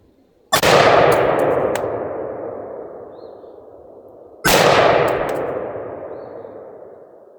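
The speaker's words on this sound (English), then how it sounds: "So we're just going to put some rounds into her little target down there." Two rifle rounds strike a steel target downrange, each a sharp metallic clang with a long ringing decay, the second arriving about four seconds after the first, loud and without talk.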